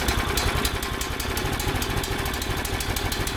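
The small engine of a Harbor Freight towable backhoe runs at idle, a loud, close, steady chugging with a rapid rhythmic knock throughout and no voices over it.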